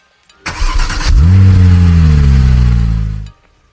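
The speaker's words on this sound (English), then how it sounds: "And then, start the vehicle." A car engine cranks briefly and catches, then settles into a loud, steady idle for about two seconds before cutting off, started with a JG.EGWO 1000A jump starter clamped to the battery.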